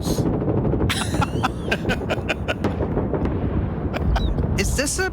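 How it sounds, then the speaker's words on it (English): Recorded World War II battle sounds: a dense, steady roar of distant gunfire with sharp shots and bursts breaking through, loud and continuous throughout, with no talking. "World War II battle sounds."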